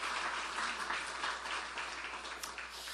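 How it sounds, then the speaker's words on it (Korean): A church congregation breaks into warm applause, a dense, steady clapping from many hands filling the room for about three seconds without a break. "우리 박수로 우리 감사 표시를"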